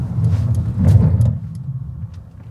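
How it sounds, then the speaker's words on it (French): A Mercedes EQA electric car braking hard from 80 km/h, heard as a loud low road and tyre rumble with some clicks and rattles that eases off over the last second and a half, with no talk. "Je vais faire un freinage. Là, je suis à 80."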